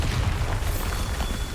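A Bombarda blasting spell explodes in Hogwarts Legacy, a loud, sustained deep boom with rumbling low end that fills the whole moment without any voices.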